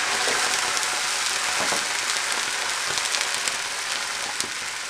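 Dry wine poured into a hot frying pan with leftover meat browning sizzles and hisses loudly and steadily, a dense crackling spatter with occasional pops, close and without talk.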